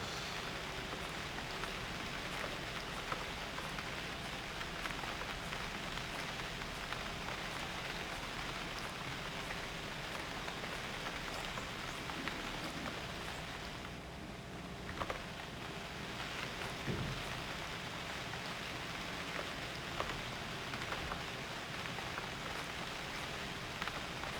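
Constant rain in the game UnReal World falls in a dense, even hiss, drops pattering on nearby surfaces, with an occasional brief thump beneath the downpour.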